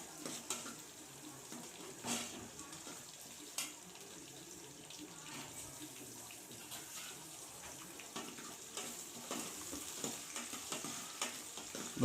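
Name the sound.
onions and tomatoes sautéing in oil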